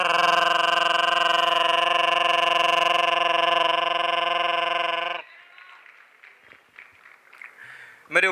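On stage at a youth-fest mimicry act, a voice imitates a passing motorbike with a steady, loud buzzing drone lasting about five seconds, then cuts off to quiet murmurs and a short burst of sound at the end.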